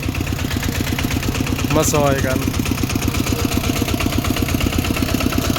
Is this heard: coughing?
no